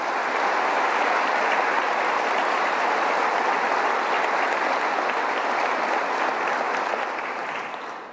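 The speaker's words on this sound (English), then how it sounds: "Please give them a round of applause" An audience at the 2024 West Virginia State of the State Address breaks into sustained, dense applause, loud and steady for about eight seconds before tapering slightly at the end, with no talking over it.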